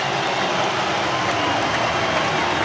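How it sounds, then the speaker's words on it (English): A big rugby stadium crowd at an Otago versus Hawke's Bay provincial match roars in a steady, dense wash of cheering that holds at the same loud level throughout, with no single voice standing out. "Listen to that crowd."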